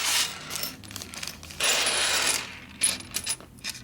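Metal engine bolts from a 1977 Harley-Davidson Sportster Ironhead 1000cc motor clink and rattle as they are handled and sorted, giving bursts of close, bright jingling with short pauses between.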